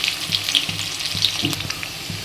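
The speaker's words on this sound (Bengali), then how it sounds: "ছোট্ট একটা আমি পেঁয়াজ কেটে রেখেছিলাম, ওইটা একটু ফ্রাই করে নেবো।" Finely chopped onion sizzles in hot oil with cumin and a bay leaf for a soya chaap curry, giving a steady close crackle with soft stirring scrapes and no voices.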